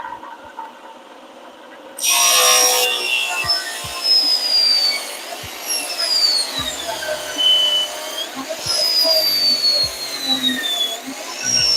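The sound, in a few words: trimming a wooden piece for a truck subwoofer box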